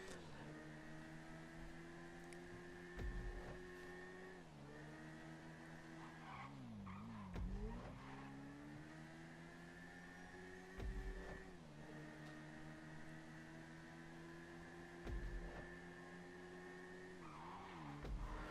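A Double T motorbike ridden in GTA Online holds a steady high engine whine that dips and climbs through gear shifts, with a few soft thumps along the way.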